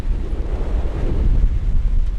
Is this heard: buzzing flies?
no